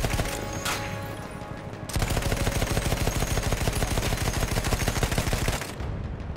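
Sustained rapid machine-gun fire in the World War I shooter Battlefield 1, a dense, loud, steady burst running for several seconds after a brief lull, with continuous battlefield rumble and no talking.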